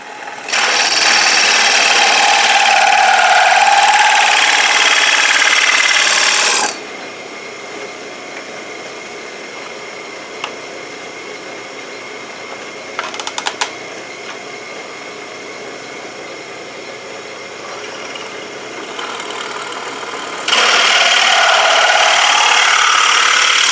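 A power drill with an extended bit drills pilot holes in wood: a loud, steady motor whine in two long runs with a quieter hum between them.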